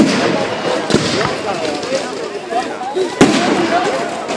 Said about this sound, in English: There's so many fireworks I can't get them in.